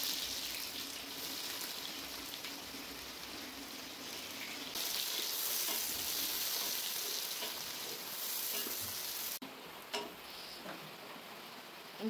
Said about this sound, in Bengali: যে পেঁয়াজটা হালকা করে একটু ভেজে নিচ্ছি